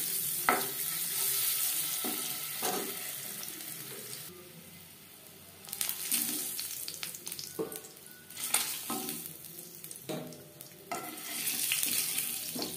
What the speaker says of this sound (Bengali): ডিম ভেজে নেব।